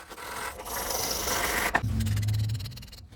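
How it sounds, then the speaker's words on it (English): A wire brush scrubs a rough cast iron hand plane part with WD-40, giving a close, continuous raspy scraping, with a brief sharp knock partway through and quicker short strokes toward the end. "all I'm going to do with that is a wire brush and some WD-40"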